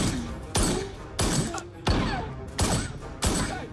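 Pistol gunshots fired at the glass of a car in an action film, five loud sharp reports spaced roughly every 0.6 seconds, each with a thumping impact and crackling aftermath.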